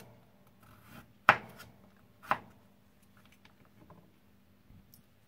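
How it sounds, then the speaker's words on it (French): Knife slicing carrots on a cutting board in a home kitchen, two distinct sharp chops about a second apart, followed by faint scattered taps in a quiet room. "Je vais couper en tranches"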